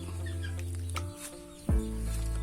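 Chickens cluck close by, a few drawn-out calls and a sharper squawk, with quiet gaps between.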